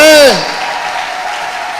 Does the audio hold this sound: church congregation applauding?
yes